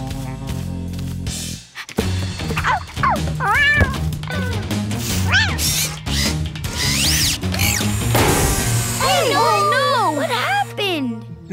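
A cartoon kitten meows in a rising, whiny voice amid busy animated-show sound effects and music, with several distinct meows toward the end and a child-like voice speaking in places.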